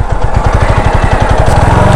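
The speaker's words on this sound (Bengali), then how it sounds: "এই চিপাতে ঢুকে বাইকটা এখানে রাখি" A motorcycle engine idles and putters close by as the bike is eased into a tight parking spot at a Dhaka motor fest, a loud steady rapid thrum throughout.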